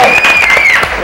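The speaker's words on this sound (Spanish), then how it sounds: "un aplauso para ella, por favor" Studio audience claps briefly for a guest on a Spanish-language TV show, a short burst of applause with a sustained tonal whistle or music line running over it.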